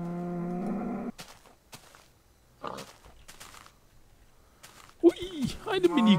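A cow in the Minecraft video game gives a long, loud moo at the start. Then come a few short game sounds and footsteps, and someone talks excitedly near the end.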